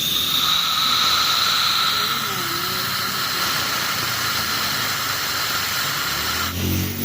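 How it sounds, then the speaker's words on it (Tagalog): A strong, steady hiss of compressed air blown into the engine intake of a Yamaha Mio MX125 scooter with lost compression, against a mechanical background, ending with a low rumble near the end. "Tapos bubuga natin ng hangin to."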